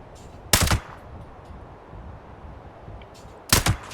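Two loud, sharp combat rifle shots in Fallout 76, about three seconds apart, each a short burst of cracks over a faint ambient game background.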